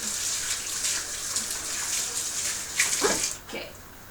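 Water runs steadily from a tap with a hissing splash, broken briefly by a few louder gushes as hands move under the stream.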